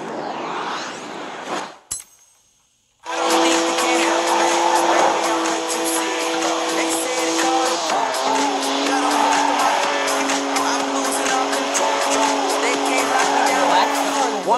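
A BMW 1M engine in the racing game Forza Horizon 4 drones loud and steady under acceleration after a short gap, its tone stepping through gear changes, with a voice heard over it.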